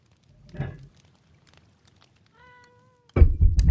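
A cat wanting treats gives a short, faint meow, then after a quiet gap a sudden loud burst of louder meowing at the end.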